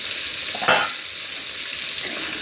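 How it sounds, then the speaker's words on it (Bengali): Pieces of pointed gourd fry in oil over a lowered gas flame, a steady close sizzle with one sharp clatter of stirring early on and no voices. "পটলটা আমি গ্যাস কমিয়ে খুব সুন্দরভাবে ভেজে নেব, লাল লাল করে।"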